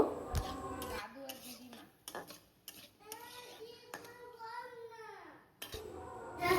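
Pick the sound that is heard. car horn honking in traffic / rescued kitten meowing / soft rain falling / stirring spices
stirring spices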